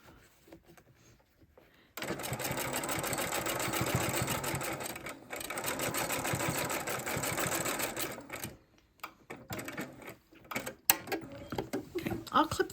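A sewing machine stitches jelly roll fabric strips in two long runs of fast, steady mechanical whirring, separated by a short pause, then stops into scattered handling clicks and rustles.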